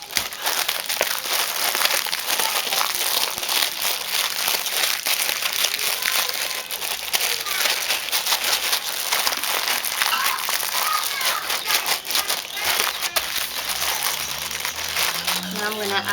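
A plastic bag holding rice and dye is sealed and handled, giving continuous close crinkling and crumpling with sharp crackles that run steadily throughout.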